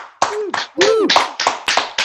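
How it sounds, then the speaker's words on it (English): A few people on a Zoom call at a New Year's Eve event clap in a sparse, uneven way. Single close claps and taps come in irregular bursts, with a brief voice sound mixed in. "Let's have a round of applause in the Zoom room"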